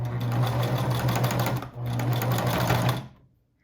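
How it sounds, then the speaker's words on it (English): A sewing machine stitches a silk mask in a straight regular stitch, two steady humming runs separated by a brief pause, close and clear, then stopping into silence. "Now we're going to go sew that shut. We're back to a regular stitch"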